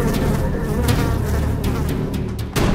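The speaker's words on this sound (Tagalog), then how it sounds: "Kumakapal ang bilang ng mga langaw na ito kada harvest season." A dense swarm of houseflies buzzing during harvest season inside a house in Laguna, a continuous close droning hum that holds steady throughout with no voices.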